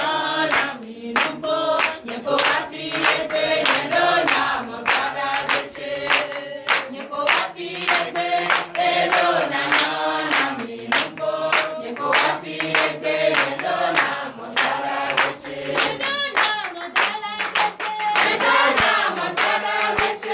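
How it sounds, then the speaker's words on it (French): A church congregation claps and cheers steadily at a worship service, dense rhythmic clapping mixed with music-like tones filling the space without pause. "donnez l'acclamation"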